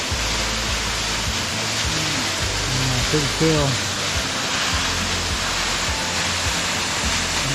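A waterfall with a heavy flow pours steadily near Stanthorpe, a loud broadband roar filling the whole clip while a voice speaks briefly over it.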